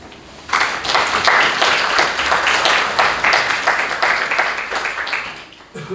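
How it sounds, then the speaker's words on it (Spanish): Audience at a university academic event applauds a researcher, a dense burst of clapping that starts abruptly, holds steady and then tapers off near the end. "Por favor, me den un fuerte aplauso"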